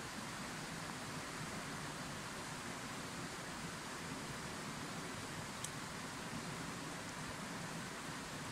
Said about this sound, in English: sound of the flowing water.